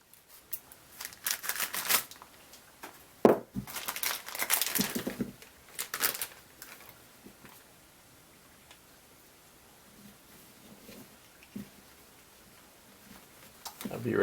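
Plastic bag holding tires from an AMT 1:25 scale Autocar DC9964B dump truck model kit being cut open, with bursts of crinkling and snipping plastic up close, then quieter rustling as the bag is handled.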